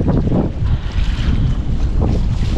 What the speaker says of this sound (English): still a lot of waves, still a lot of wind